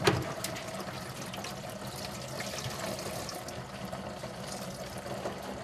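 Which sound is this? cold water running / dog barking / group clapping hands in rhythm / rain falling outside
cold water running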